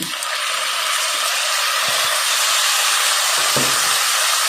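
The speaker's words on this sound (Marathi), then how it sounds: "व्यवस्थित असं हे परतून घ्यायचं आहे. हे 2 मिनिटं परत भाजून घ्यायचं आहे व्यवस्थित." Sprouts sautéing in a pan of spicy Kolhapuri misal masala give off a steady, close sizzling hiss that holds evenly throughout, with faint stirring knocks underneath.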